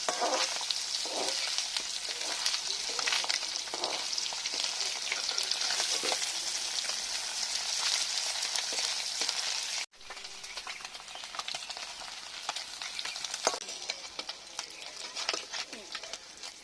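Oil sizzles and crackles steadily as khoira fish fry, with occasional stirring scrapes, continuous throughout.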